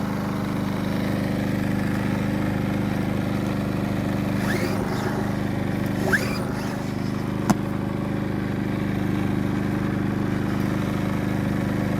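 A Champion C2500iS inverter generator runs with a steady, even engine hum throughout, close and constant, with a couple of faint brief noises passing over it.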